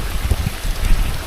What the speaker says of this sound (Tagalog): Ulan lang yan, angler kami.